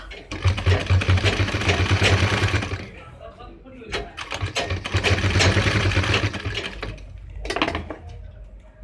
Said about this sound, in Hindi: यहाँ से हम इसके ऊपर एक लब की सिलाई लगाएंगे